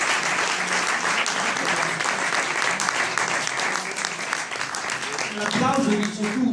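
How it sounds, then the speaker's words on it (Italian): An audience at a Grand Hotel award event in Cesenatico applauds after a poem, with dense, sustained clapping from a full room that swells slightly near the end as a voice begins under it. "l'applauso dice tutto"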